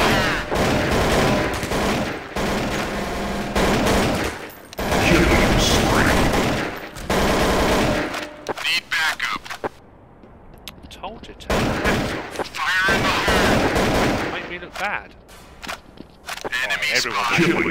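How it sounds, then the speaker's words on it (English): Dense video game gunfire fills a shootout, rapid automatic bursts and overlapping shots rattling loudly almost without pause, easing briefly midway before more volleys resume, with talk mixed in. "everyone is shooting back."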